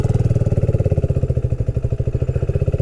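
A motorcycle engine chugging along while riding through the town of Silves in the Algarve, a close, steady rhythmic low thumping pulse with a slight dip in pace midway.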